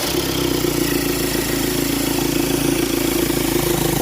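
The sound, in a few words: diesel car engine idling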